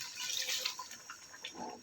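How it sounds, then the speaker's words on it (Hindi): Water is poured into a pot of paya stew, a faint liquid splashing and gurgling that swells toward the end. "हमने इसमें पानी डाल दिया है"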